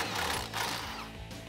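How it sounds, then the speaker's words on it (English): Impact wrench with a 16 mm deep socket spinning the factory nut off a sway bar end link on a 2009-2021 Ram 1500, a steady close rapid hammering buzz for about a second and a half. "grab a 16 millimeter deep socket, and we're gonna remove the factory nut off of our sway bar endling"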